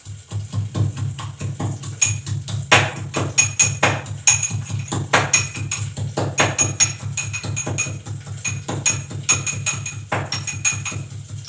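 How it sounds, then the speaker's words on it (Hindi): Garlic pounded in a metal mortar and pestle in a home kitchen, a steady run of sharp, ringing metallic strikes in quick rhythm, close and fairly loud for the whole stretch. "लहसुन को मैं कूट के ही डालती हूँ, काट के बहुत कम डालती हूँ।"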